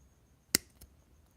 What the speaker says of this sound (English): Can you guys hear the cuts on this from the nipper?